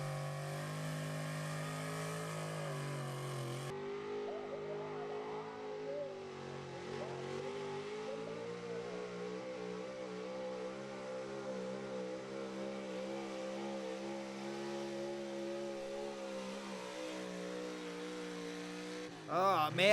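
Pulling truck at a truck and tractor pull: a loud, sustained engine roar holding steady, climbing in pitch as it revs hard through the run, with a brief sharp burst right at the end.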